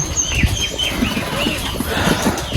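Pigeons in a pigeon loft on a cold, foggy winter morning make soft, repeated wing flaps and shuffling movements up close, with faint cooing and chirps mixed in.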